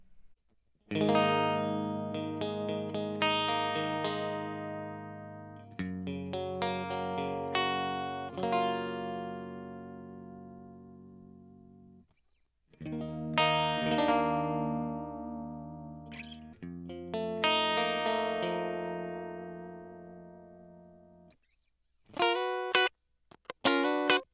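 Clean electric guitar through a Cornford MK50H II amp profile, playing chords and picked notes with audible pick attack, phrases separated by short pauses, ending with a few sharp plucks.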